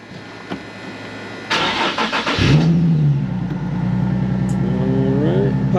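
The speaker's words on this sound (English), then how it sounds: "Go ahead, start the car." A Nissan 370Z fitted with a flex-fuel kit cranks briefly, fires up with a loud rev, then settles into a steady close idle, with no talking.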